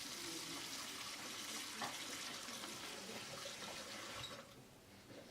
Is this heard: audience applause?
no